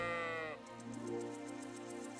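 Sheep bleat in the video game Kingdom Come Deliverance 2, one long wavering close bleat that fades into soft farm ambience with no talking.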